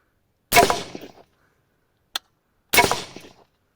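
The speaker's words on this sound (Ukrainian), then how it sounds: "Постріл." Two sharp, loud rifle shots from an AR-15 striking a steel armor plate, each a sudden blast with a short decaying tail, about two seconds apart, with a small faint click between them.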